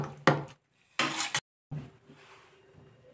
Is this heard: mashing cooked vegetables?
yes